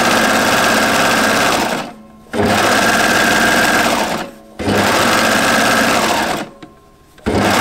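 A sewing machine stitching a knit jumpsuit, running in three loud continuous bursts with brief pauses between them, a steady rapid mechanical whir up close.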